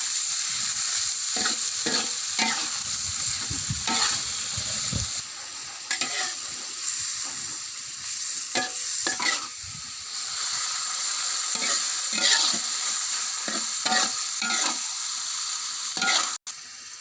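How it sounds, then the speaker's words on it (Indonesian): Shrimp frying in a pan, a continuous loud sizzle with scattered stirring clatters and scrapes; the sizzle briefly drops off and then resumes. No one speaks. "goreng udangnya dulu ya sahabat di tengah sebelum kita sambal ya"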